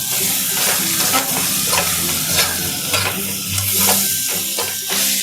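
Bitter gourd curry being stirred in a hot pan after salting, a loud continuous sizzle broken by rhythmic scraping strokes of a spatula, close up.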